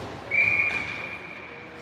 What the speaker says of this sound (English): so whistle blows and face-off will be down in the Nanaimo end